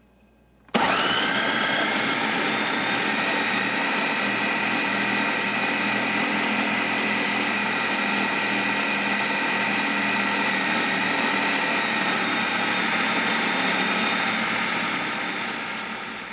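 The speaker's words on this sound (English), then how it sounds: "I threw it in a blender, and all you can see now is the chicken that was chopped up from the blender" Blender whirring continuously as it chops chicken into a paste, starting abruptly and running loud and steady at high speed before easing slightly at the end.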